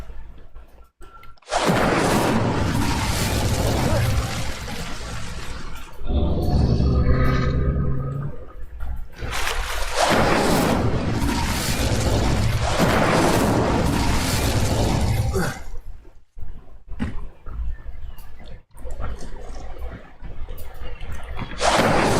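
Incendio fire spell cast in the video game Hogwarts Legacy: loud roaring bursts of flame with booming, crackling surges, several long blasts separated by brief quieter gaps.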